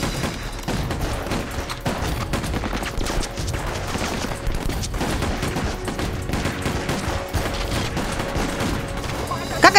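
Dense gunfire from a film battle scene, rapid overlapping shots and bursts that go on without a break, with voices shouting faintly underneath.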